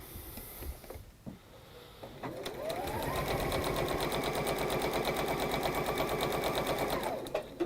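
A sewing machine set to a longer stitch on a quarter-inch seam, joining fabric pieces: a few handling sounds, then a steady, fast rhythmic whirring run of several seconds that stops abruptly, close by.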